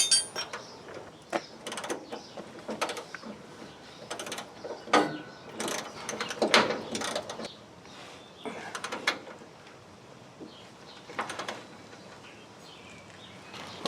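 A wrench tightening the rear shock nut on a 1989 Chevy K5 Blazer: quick irregular ratcheting clicks and metallic ticks in bursts, close and moderately loud, without talk.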